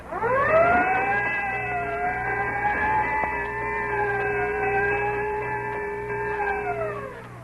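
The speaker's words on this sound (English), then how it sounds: "Whenever you hear the siren and bell" A fire siren and bell from a 1932 radio broadcast wail with a steady, slowly wavering tone for several seconds, loud and close, with a faint regular pulsing underneath.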